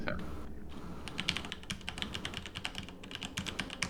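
Fast typing on a computer keyboard, a dense stream of close, crisp key clicks rattling along steadily throughout, with faint speech in the background.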